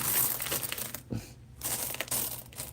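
Old U.S. pennies, including steel cents, are shuffled by hand in a continuous, close crunching clatter with a brief pause midway.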